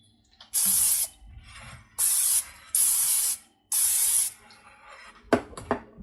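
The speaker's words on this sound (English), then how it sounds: "I'm going to spray it with a little bit of Pam." Pam cooking spray is sprayed into a baking dish in four short, loud hissing bursts with brief gaps between them, followed by a couple of light knocks as the can is set down.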